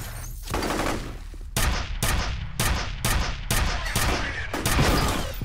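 Machine gun fire in the shooter game FEAR: loud, close bursts of automatic gunfire in repeated rapid volleys with short gaps, with no talking.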